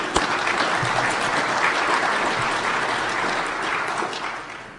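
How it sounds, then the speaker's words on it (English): A conference crowd at the National Cyber Summit applauds steadily and loudly throughout, a dense wash of clapping that fades slightly at the end. "Let's give ourselves applause for putting on a record National Cyber Summit."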